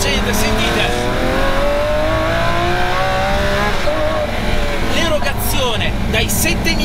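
A Lamborghini Aventador Ultimae V12 revs hard toward its 8750 rpm limiter, its rising engine note loud and close inside the car, with a voice talking over it and brief sharp bursts near the end.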